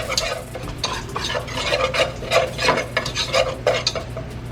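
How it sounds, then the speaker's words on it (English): Flour being stirred and cooked down in a pan for a meatball dish, with steady scraping strokes of a utensil and a light sizzle running throughout, close and fairly loud, no talking. "So I'll cook the flour down a little."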